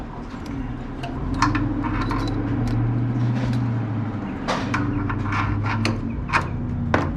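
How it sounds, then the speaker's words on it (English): Metal clicks and light taps from removing a circlip on a 1972 VW Baja Bug, close and irregular over a steady low hum. "Gotta get that circlip"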